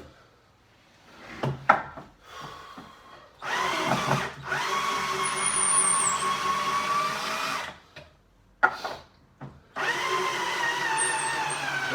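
A power drill spins out screws from wooden shelving, giving several loud whirring bursts of a few seconds each, separated by quiet pauses and short clattering knocks.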